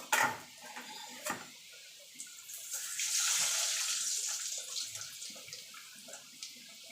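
Kochuri (Bengali hing kochuri, deep-fried puffed pastries) frying in hot oil, a soft steady hiss of bubbling oil with small pops and clicks, swelling louder midway then easing, no voices.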